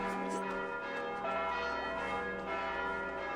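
Church bells peal steadily in Assassin's Creed Valhalla, a dense wash of overlapping rings and hum that fills the whole moment at a constant, fairly loud level.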